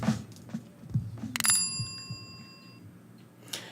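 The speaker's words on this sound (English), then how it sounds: "Hit the bell." A bicycle-bell sound effect cuts into a live real estate talk show: one bright ring that hangs and fades over about a second and a half, loud against a quiet background.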